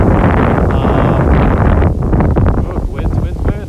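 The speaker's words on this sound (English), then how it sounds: "Wind." Wind blowing into a microphone outdoors in Tokyo, Japan, a loud, steady rumbling buffet that eases slightly toward the end, with a person talking over it.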